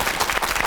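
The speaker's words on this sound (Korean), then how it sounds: "그런 의미에서 또 한 번 박수" An audience at a television show claps in a brief, dense burst of applause.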